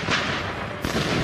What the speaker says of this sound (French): l'artillerie vietmine est invisible. Et le pilonnage d'une puissance inouïe